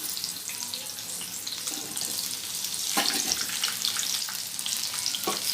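Potato slices for pakodi frying in hot oil give a continuous bright sizzle and crackle, with a few louder bursts of spitting as pieces settle and are moved.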